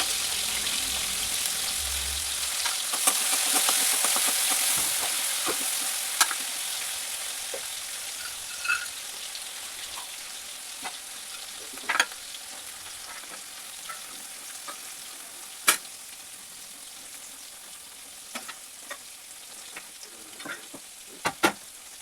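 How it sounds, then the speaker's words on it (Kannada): Field beans frying in hot oil in a home kitchen pan, a steady close sizzle with scattered pops and a few stirring clicks, and no talk. "ನಾನಿಲ್ಲಿ ಫಸ್ಟು ಎಣ್ಣೆಯಲ್ಲಿ ಫ್ರೈ ಮಾಡ್ಕೊಂಬಿಟ್ಟು ಆನಂತರ ನೀರಾಕಿ ಓಪನಾಗಿ"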